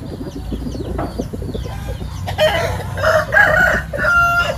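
A green-feathered fighting rooster crows loudly and close by, one long cock-a-doodle-doo in the second half, with clucking and other fowl noises from a farmyard before it.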